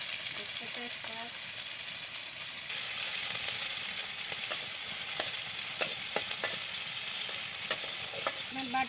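Onion, green chili and a bay leaf frying in oil with a steady, bright sizzle, occasional clinks of a stirring spoon against the pan growing more frequent, close by and without talk.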